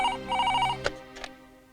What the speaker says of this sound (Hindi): आपके लिए फोन।